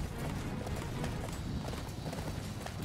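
Horse galloping in the Attack on Titan Wings of Freedom video game, rapid rhythmic hoofbeats pounding steadily and close, faint but continuous with no talk over them.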